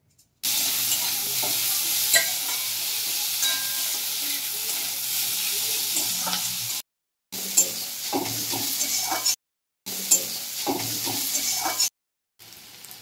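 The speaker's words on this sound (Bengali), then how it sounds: "ওই মাছ ভাজা তেলে দিয়ে দিলাম আমি কালো জিরে, পেঁয়াজ কুচি। পেঁয়াজটা বেশ বাদামি করে ভেজে নেব।" Chopped onion and black cumin seeds fry in oil left from frying bata fish, a bright continuous sizzle broken by two brief silent cuts, with stirring scrapes and spatters.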